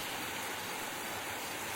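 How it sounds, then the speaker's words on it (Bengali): Steady, even rain hiss with no breaks, a soft continuous wash of falling water heard alone. "আর তারপর নামলো ঝমঝমিয়ে বৃষ্টি"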